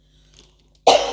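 A single sharp, loud cough bursts out after near silence, close to the microphone.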